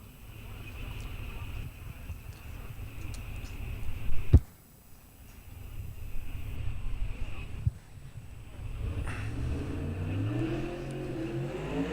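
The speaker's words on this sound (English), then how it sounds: "And I hear engines fire up" Drag racing engines fire up and rev in the staging lanes at a 1/8 mile heads-up event, a steady distant roar that dips sharply midway and then swells again, heard outdoors with faint background noise.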